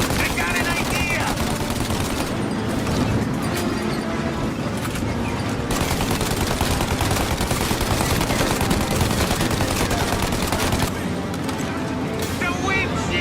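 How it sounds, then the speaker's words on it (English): Dense, continuous gunfire fills a shootout in the video game Mafia: Definitive Edition, with rapid bursts aimed at a car windshield layered over shouting voices and loud action throughout. "Shoot out the windshield!"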